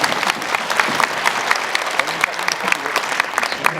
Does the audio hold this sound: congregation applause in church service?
yes